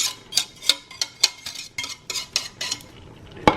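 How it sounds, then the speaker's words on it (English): A spoon scrapes and clinks against a pot as lima beans are stirred with sausage, green onions and roux in a home kitchen, a quick rhythmic series of close metallic taps and scrapes, with no talking. "Stir it up and let it cook."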